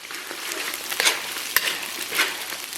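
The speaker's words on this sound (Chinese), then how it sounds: "继续给它煸炒一下，" Pork hocks frying in a wok with Pixian bean paste and chili sauce, stir-fried to bring out the red oil. A dense sizzle runs throughout, with intermittent scraping swells and a sharp clack near the middle, and no speech.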